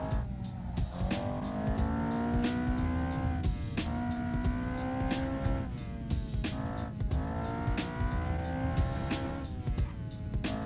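A front-wheel-drive Peugeot racing fast downhill on the Usui Pass touge road in Assetto Corsa, its engine droning steadily through repeated rises and shifts, with tire squeal running underneath, close and continuous.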